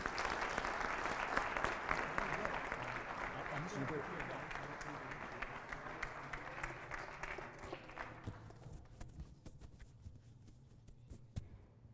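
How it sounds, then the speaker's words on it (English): A lecture audience applauds after a talk on global terrorism, a sustained, even round of clapping that carries for several seconds before thinning out abruptly to a few scattered claps and a voice. "a huge round of applause for Tom"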